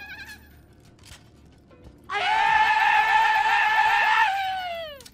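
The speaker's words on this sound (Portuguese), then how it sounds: "toda hora que você dá um simples tiro, ela simplesmente faz um barulho horroroso de um grito" A shrill, wavering scream from a bizarre weapon firing in a video game bursts in loud after a quiet stretch, holding for about two seconds with a rapid warble before trailing off.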